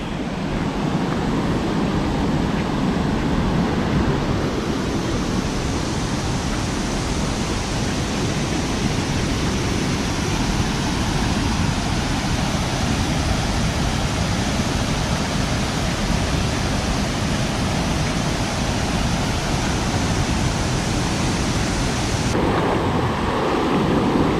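Constant rushing roar of a waterfall, a dense, steady wash of water noise that barely changes throughout, with no talking.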